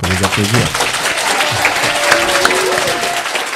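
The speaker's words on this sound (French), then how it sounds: "on peut les applaudir" Audience applause at a school law-night event, a busy wash of claps mixed with music or a tonal voice at the start and chatter underneath, short and fairly loud.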